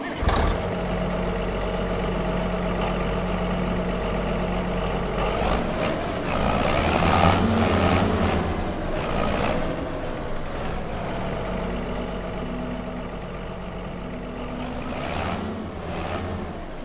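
A tractor engine in the video game Farming Simulator 25 drones steadily with a deep low rumble and a constant tonal hum, swelling slightly in the middle and running loud and close with no talking.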